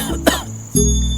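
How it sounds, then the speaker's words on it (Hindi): A person coughs after eating too much black pepper, one short harsh cough followed by a throat-clearing burst, close and loud. "खांसी नहीं रुक रही है मेरी।"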